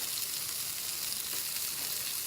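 Skewers coated in a slightly sugary marinade sizzle steadily on a Char-Broil grill, a continuous close hissing crackle with no voices.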